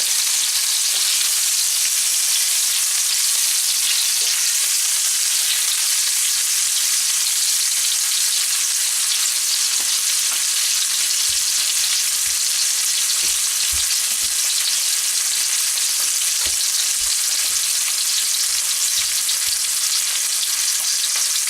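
Steak sizzling and frying in a hot pan, a steady loud hiss carrying through with occasional soft pops and stirring movements, no voices.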